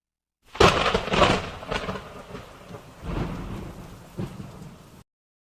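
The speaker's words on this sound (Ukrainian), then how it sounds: "Правильно, це грім, гроза" Heavy thunder cracks and rolls over steady rain, with a second rumbling peal following; loud and close, no voices.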